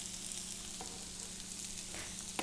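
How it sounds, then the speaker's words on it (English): Potato cubes from a small whole potato sauteing in bacon fat, a steady close sizzle and crackle of frying throughout with no talk. "Cut it into cubes and just add it to the saute mix."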